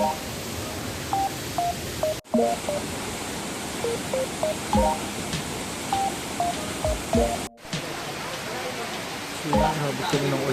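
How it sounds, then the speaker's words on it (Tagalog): Steady rain falls along a mountain trail on the way to Mt Malusong and Imugan Falls, a dense close patter with small drips and scattered tonal blips that continue throughout, with brief dropouts. "So, habit kami ng ulan."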